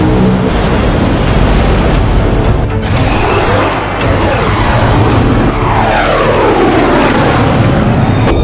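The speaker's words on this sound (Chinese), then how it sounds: "这是我大夏的战机编队。" A formation of fighter jets passes overhead in a loud, continuous roar whose pitch sweeps as the aircraft move past, heard close and without any voices over it.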